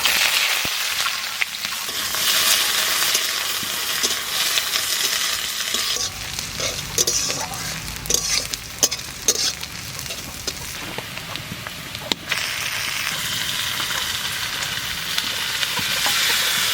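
Onion sizzles and crackles in hot oil with dried red chillies and cumin seeds, a steady frying hiss with intermittent stirring scrapes, cooked in a village kitchen.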